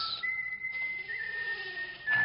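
A soldier whistles a thin, wavering tune, fairly quiet, with a soft rustle and a brief louder burst near the end.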